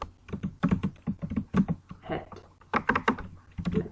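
Quick bursts of typing on a computer keyboard, close and crisp, with irregular clusters of clacking keystrokes and short pauses between them.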